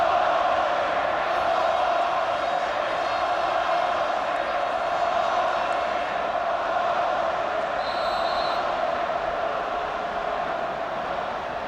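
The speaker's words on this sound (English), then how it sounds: "The crowd making it fairly clear what they feel about the decision" Football stadium crowd at an Australia versus Iran match, a loud, steady roar of many voices reacting to a referee's decision, with jeers and shouts blending into a continuous dense wash throughout.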